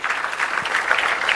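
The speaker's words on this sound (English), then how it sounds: "Come on, put your hands together." Audience at a New Mangalore Port golden jubilee event in Bharat Mandapam claps steadily, a brief even burst of applause from a sizable crowd.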